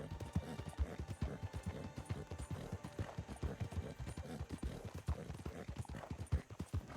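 Horse hooves clip-clop in a quick, steady rhythm as a horse moves along carrying two riders, the beats quiet and fairly even under faint background noise.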